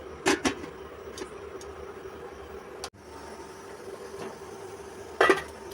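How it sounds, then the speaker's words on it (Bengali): A metal lid clanks onto a pot holding chhena cake batter, with a few quiet, sharp knocks spread apart in an otherwise hushed kitchen. "ঢাকনাটা দিয়ে দিলাম।"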